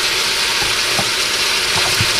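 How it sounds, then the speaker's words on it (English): Garlic and onions fry in a pot for lasagna soup, giving a steady close sizzle with a few soft stirring clunks. "now we're ready to add in our onions and our garlic"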